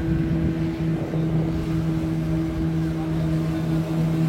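Boat engines drone steadily at sea, a close, continuous hum holding a constant pitch, with a fishing fleet of some forty engines nearby and no talk over it.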